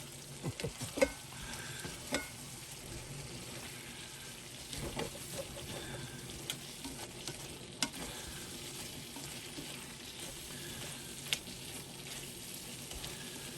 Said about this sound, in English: Just toss it around, mix it up.